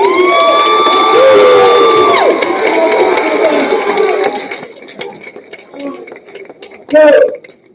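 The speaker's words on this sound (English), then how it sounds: "Give yourself one more round of applause." Crowd at a championship ceremony cheering and whooping loudly, with piercing shouts from children, tapering into scattered calls and a final burst of yelling.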